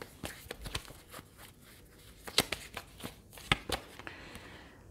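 Tarot cards being shuffled and drawn, quiet irregular papery flicks and slaps with a few sharper snaps, close and alone.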